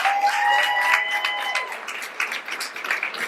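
Steady applause from a comedy club audience in Cocoa Beach, Florida, dense clapping that holds loud and then thins slightly, with a faint tonal hum in the background.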